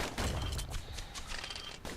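Rapid gunfire from twin slinger pistols in the video game Bastion, a dense volley of sharp shots firing in quick succession, loud and close throughout.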